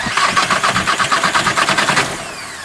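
Diesel engine on a test bench after fuel pump repair cranking and firing up, a rapid even chugging pulse for about two seconds before settling, loud and close with no talk.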